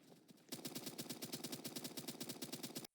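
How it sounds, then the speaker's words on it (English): Rapid gunfire in the video game Q Clash, a fast even burst of loud repeated shots lasting a couple of seconds before cutting off abruptly, with no talking. "I take a few shots at the enemy."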